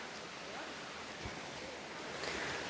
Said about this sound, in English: And there's a little river running through here.